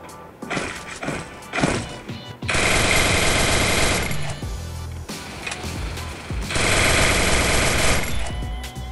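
Gunfire in the mobile battle game Free Fire: several quick single shots, then two long sustained automatic bursts, loud and close, with brief gaps between.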